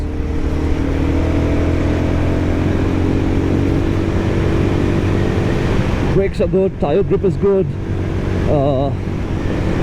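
A Guerrilla 450 motorcycle's engine drones steadily and loudly while riding through mountain corners, with heavy wind and road noise throughout and someone talking over it near the end.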